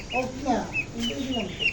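Several ducklings, Chinese and local breeds, make quick, bright peeping calls in short bursts, close by, over a quiet background with no talking.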